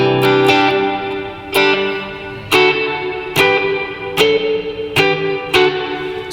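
An electric guitar in an affordable worship rig plays through an effects unit with amp reverb. Loud strummed chords ring out about every second, each one sustaining and blending into a washy reverberant tail.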